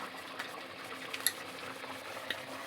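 Chicken curry simmers in a pot with a quiet, steady bubbling hiss and a few faint pops and clicks, and no one talks.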